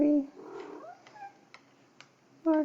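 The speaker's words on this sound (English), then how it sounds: "It's Marco the cat making a guest appearance" Marco the cat meows in a short, clear upward cry near the start, followed by a few softer mewing calls and faint clicks, with another sharp meow at the end; quiet room otherwise.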